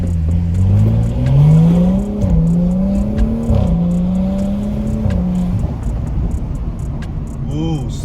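BMW F30 sedan launching hard, its engine revving up through rising gear pulls with brief dips at shifts, loud and close from inside the cabin, settling into a steady drone.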